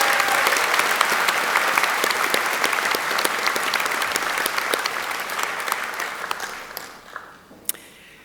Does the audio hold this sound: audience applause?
yes